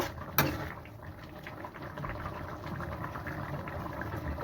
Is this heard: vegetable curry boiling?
yes